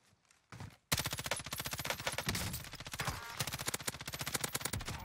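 Rapid automatic gunfire rattles in Call of Duty Warzone, a dense burst of close shots that starts abruptly after a brief quiet and keeps going with uneven bursts.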